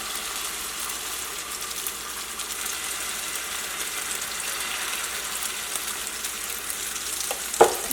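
Egg paratha mix sizzling steadily in a hot pan, a continuous close frying hiss with a brief clatter right at the end.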